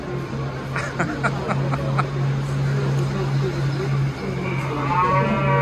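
Cows mooing with a long low drawn-out call, accompanied by a series of rhythmic knocks early on and a steady outdoor background.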